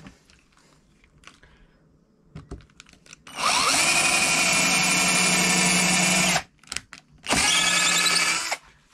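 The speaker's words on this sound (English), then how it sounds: "Drill your first hole." A power drill bores a hole through plywood in two loud bursts, first a long whirring run and then a shorter second one after a brief pause, preceded by a few quiet handling knocks.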